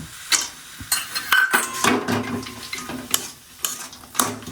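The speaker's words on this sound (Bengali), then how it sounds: "এই মশলাগুলো দিয়ে মোচা আর আলু একসঙ্গে কষিয়ে নিচ্ছি" A metal spatula scrapes and clanks in a pan as banana flower and potatoes are stir-fried with coriander, cumin and dried red chilli. The utensil knocks and scrapes in an irregular, busy rhythm, close up, with no voices.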